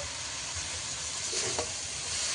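Shredded cabbage frying with turmeric, chili and coriander powder, giving a close, continuous hiss and crackle that stays even throughout, with a faint stir midway.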